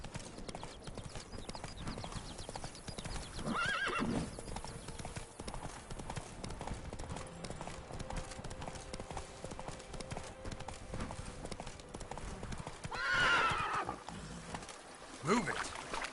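Roach the horse from The Witcher 3 gallops with steady, close clip-clop hoofbeats through the whole stretch, with a louder neigh-like burst near the end and a rider's voice speaking briefly.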